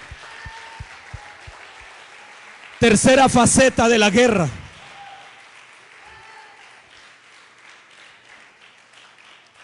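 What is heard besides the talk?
audience applause in church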